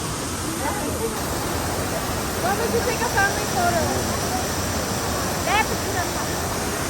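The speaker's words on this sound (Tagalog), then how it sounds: "Ito po yung waterfall." Shifen Waterfall in Taiwan roars as a steady, loud broadband rush of falling water, with people talking over it and birdlike chirps faintly audible.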